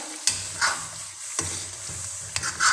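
Masala with chopped green chilies fries in a pan for a chicken and turnip shaljam curry, a soft sizzle broken by three distinct spoon scrapes and stirs, close up and without talk.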